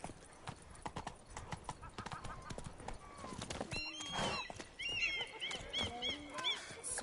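A horse in The Witcher 3: Blood and Wine gallops with rapid rhythmic hoofbeats, then whinnies, while a player speaks over the game sounds.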